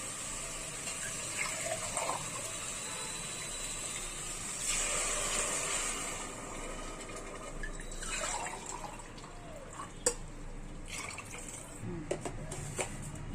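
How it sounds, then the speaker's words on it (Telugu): Water splashes and gushes steadily into a pressure cooker of sautéed vegetables for vegetable pulao, a continuous moderate pour with a few drips near the end and no talking. "నిమిషాలు ఉడికిన తర్వాత దీనిలో ఎసురు పోసుకోండి."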